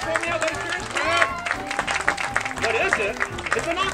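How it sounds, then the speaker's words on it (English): An audience claps for a balloon octopus at a children's balloon-twisting show, a loud burst of applause mixed with crowd noise and a speaking voice throughout. "give him a big round of applause for me out there"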